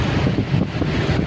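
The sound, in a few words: strong wind in Pontianak city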